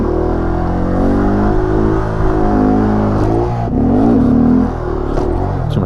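A stunt motorcycle engine idling and revving in a parking-lot stunt practice session with foot brake work, a loud, close, continuous drone that rises and falls with the throttle and has a strong surge near the end.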